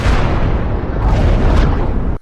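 A missile fires and explodes in a long, loud, continuous roaring blast with rumbling swells that fills the whole stretch and cuts off abruptly.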